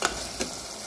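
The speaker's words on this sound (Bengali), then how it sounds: "নেড়ে চেড়ে দিব, তেল উঠে গেছে।" A curry is stirred in hot oil in a pan, giving soft sizzling with two quick scraping stirs, faint and close.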